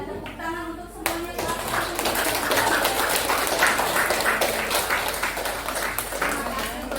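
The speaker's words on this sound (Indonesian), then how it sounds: "Sekarang berikan tepuk tangan untuk semuanya." A classroom of students breaks into dense, sustained applause after a teacher's closing words, many hands clapping together loudly for several seconds.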